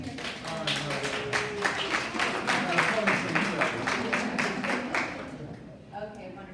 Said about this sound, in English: let's give them a round of applause for coming here